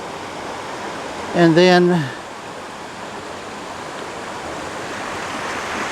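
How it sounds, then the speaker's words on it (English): A small waterfall pours over rocks into a creek, giving a steady, even rush of water throughout, with someone briefly speaking over it near the start. "Little waterfall there,"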